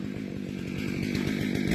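A 66-model chainsaw felling tall trees, its engine running loud and close with a fast pulsing buzz that builds slightly over a short burst, alone without talk.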